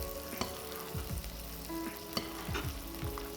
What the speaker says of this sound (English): I'm just going to keep basting it with this lovely oil and butter